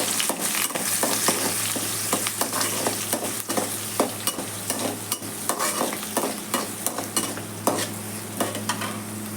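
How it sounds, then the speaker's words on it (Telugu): Thinly sliced onions frying in a pan for an Andhra stuffed brinjal curry, a steady close sizzle broken by frequent scraping clicks of stirring. "ఇప్పుడు ఇవి గోల్డెన్ కలర్ వచ్చే వరకు ఫ్రై చేసుకోవాలి."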